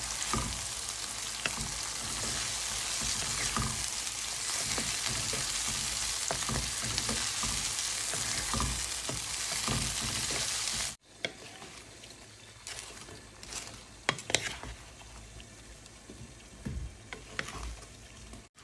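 Shrimp sizzle and fry loudly in a pan with chili, turmeric, coriander and cumin powders, with scattered stirring clicks; partway through the frying drops to a softer crackle under occasional utensil knocks.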